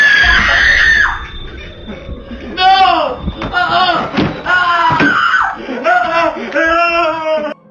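Boys screaming in terror, loud high-pitched overlapping screams and shrieks in bursts, close up, with a thud partway through and shouting voices between the screams.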